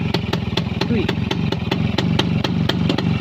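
Kawasaki HD3 two-stroke motorcycle engine idles close up, with a fast, even popping beat and metallic clatter that stay steady and loud throughout.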